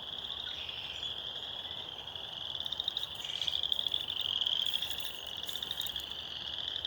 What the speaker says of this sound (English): Spring peeper frogs